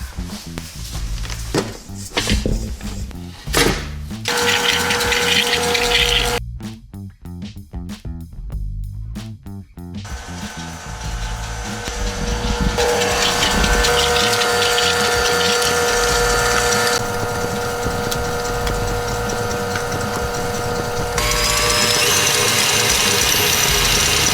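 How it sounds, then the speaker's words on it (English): A stand mixer churns cranberry pistachio biscotti dough, starting with a few knocks and clatters before a loud, steady motor whir takes over, its pitch shifting as the speed changes. "now we're gonna walk on over to the mixer and throw everything in and get it start mixing"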